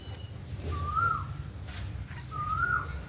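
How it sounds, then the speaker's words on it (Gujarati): An Asian koel calls twice in a village, two clear rising whistled notes about a second and a half apart, fairly distant over a quiet low rumble of background noise. "અહીંયા કોયલ બોલી રહી છે"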